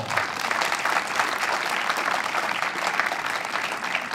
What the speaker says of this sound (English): please give a warm round of applause to your confirmed sixth place this afternoon